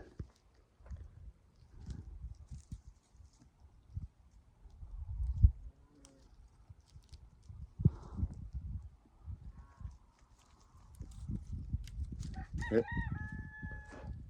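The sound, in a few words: rooster crowing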